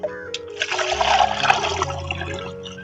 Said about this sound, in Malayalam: ചുവട്ടിലും ഇലയിലൊക്കെ വീഴുന്ന രീതിയിൽ ഇങ്ങനെ അങ്ങ് ഒഴിച്ചു കൊടുത്താൽ മതി